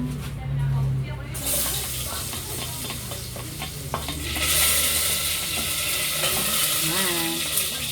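Onion and garlic sizzle steadily in a hot pan, a continuous frying hiss with occasional stirring clatter, growing louder midway through.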